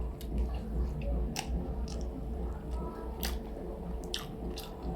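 Eating shrimp cooked with taro at a home lunch, quiet repeated soft chewing and biting with brief crunches over low background noise.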